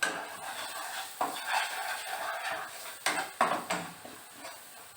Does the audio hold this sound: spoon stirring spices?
yes